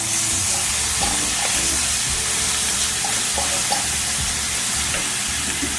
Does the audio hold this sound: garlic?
yes